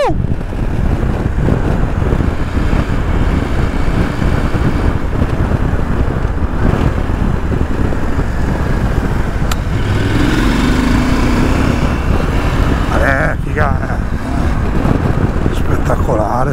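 A Husqvarna Norden 901 motorcycle engine drones steadily during a test ride, loud and continuous with heavy wind rush over the microphone, and a rider's voice occasionally breaks through.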